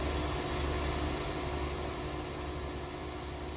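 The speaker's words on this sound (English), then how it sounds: "And the forage harvester running next to him." A forage harvester engine in Farming Simulator 19 runs with a steady droning hum and hiss at a moderate distance, constant and unbroken throughout.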